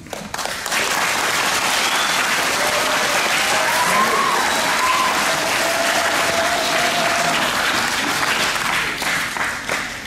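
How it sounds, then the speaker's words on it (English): Sustained applause from a crowd at a Veterans Day ceremony, steady and dense for the full stretch, loud and close with a faint tonal whistle or hum running under it. "So, a round of applause to all of you."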